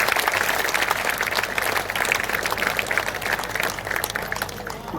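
Loud, dense applause from a large audience at a Hindi poetry conference (kavi sammelan), sustained and steady throughout with no talking over it.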